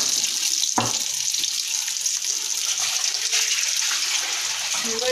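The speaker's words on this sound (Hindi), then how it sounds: "मैंने यहाँ इसको डाला है इस तरह ऑयल में, हल्की आंच पे ये फ्राई हो रहा है।" Chicken and vegetable doughnuts fry in oil over low heat, giving a soft, steady hiss and fizz with a sharp clatter near the start and a few faint bumps, close and without talk.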